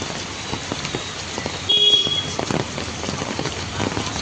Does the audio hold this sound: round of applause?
no